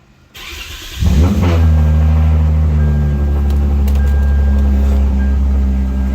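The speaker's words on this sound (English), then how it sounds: "there was a battery in the RL, so let's get it started." A car engine cranks briefly, catches and roars into life, then settles into a loud, steady idle close by with a strong low rumble and no voices.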